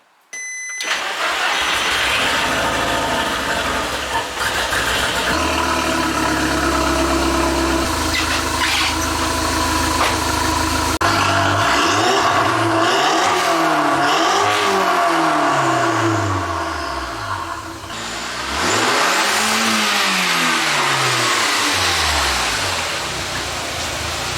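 The turbocharged 20-valve engine of a VW Polo GTI 6N2 with four-wheel drive starts, then idles loudly and revs in repeated rising and falling sweeps, close by and with no talking.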